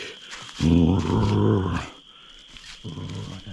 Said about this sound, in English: It is growling and roughing at me.